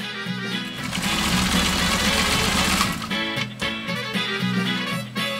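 A PFAFF 18 sewing machine zigzag stitching through eight layers of U.S. Army grade canvas: a loud, steady mechanical whirring run that slows after a few seconds into uneven, chugging strokes.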